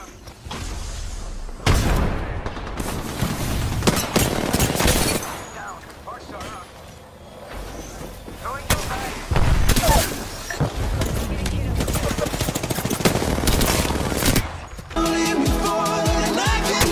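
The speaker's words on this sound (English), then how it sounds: "Getting shot at." Gunfire in the video game Apex Legends, bursts of rapid shots and booming impacts mixed with loud game effects and music, nearly continuous and close, with a player talking over much of it.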